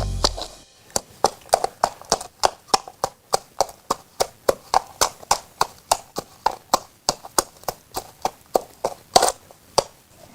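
Foley hoofbeats made by hand clop in a steady, even rhythm, dozens of crisp hollow knocks close to the listener, sounding like a horse walking on a hard surface.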